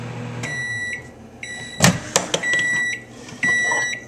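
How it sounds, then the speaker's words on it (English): A microwave oven hums while heating a vape atomizer in water, with several loud electronic beeps sounding in short bursts over the low drone, plus a few clicks and knocks nearby. "What I'm doing is I'm cleaning an addy in the microwave"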